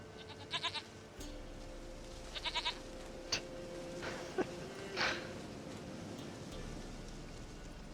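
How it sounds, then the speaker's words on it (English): A goat in The Witcher 3 gives several short, quavering bleats early on, soft against a steady rain-like ambient hiss, followed by a few scattered clicks and a brief louder call near the middle. "sweetest goat."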